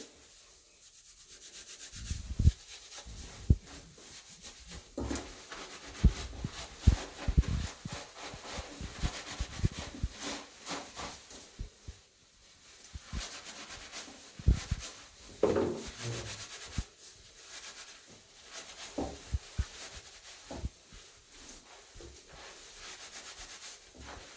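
Shampoo being rubbed into a braided wig, soft irregular rubbing and scrubbing strokes with a wet hiss, close and fairly quiet.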